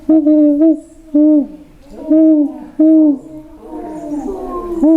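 A person's voice mimics an owl, giving a series of sustained, tonal hoots in a rhythmic pattern with short breaks between them, loud and close.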